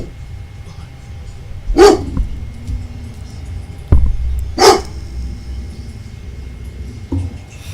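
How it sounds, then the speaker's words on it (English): A dog barks in short, sharp, separated yelps over a steady low hum and background noise, with a voice speaking at moments. "Good quality barking there"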